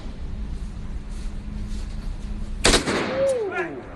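A single loud gunshot at an indoor gun range cracks out after a stretch of low background noise, followed by a brief ringing tail, with people talking around it.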